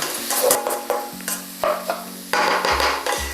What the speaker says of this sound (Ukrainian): Додаю ще трішки соняшникової олії. Всі ми знаємо, що морква її просто обожнює. Гарно перемішую все.